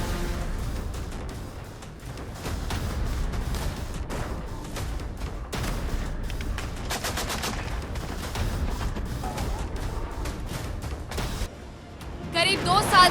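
Bursts of gunfire crackle repeatedly over several seconds as soldiers fire at an oncoming car, some in rapid clusters, mixed with a noisy background and shouting.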